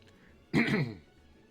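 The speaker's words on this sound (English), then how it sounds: "Sorry, I had to cough." A single short, sharp cough breaks an otherwise quiet moment, close and fairly loud.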